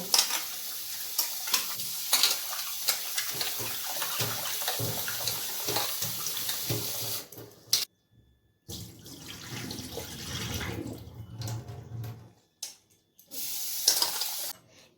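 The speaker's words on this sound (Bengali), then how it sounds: "চিকেনটাকে আমি পরিষ্কার জল দিয়ে ধুয়ে নেব" Chicken pieces, about 500 grams, are washed in clean water in a sink, with running water, splashing and rubbing going on continuously, broken by a couple of short pauses.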